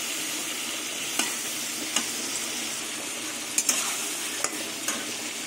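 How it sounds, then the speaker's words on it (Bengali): Pointed gourd (potol) sautéing with ginger paste in a pan: a steady broad sizzle, with a few sharp scrapes of a spatula stirring at irregular intervals, close and alone without talk. "এবার আদা দিয়ে কিছুক্ষণ পটলটা কষিয়ে নেব"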